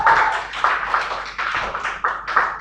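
Scattered applause from a small group, made of loose uneven claps in short bursts that continue for a few seconds, heard up close with no talking over them.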